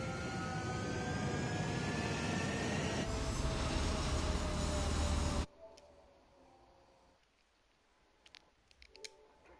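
A jet aircraft in Ace Combat 7 takes off from a runway, a loud sustained engine roar with a rising whine that cuts off abruptly into quieter clicks and faint game sounds.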